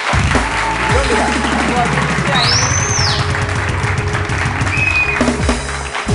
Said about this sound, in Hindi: तालियां वालियां बजा दीजिए